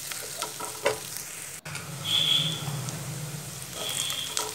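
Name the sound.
onion frying with ginger paste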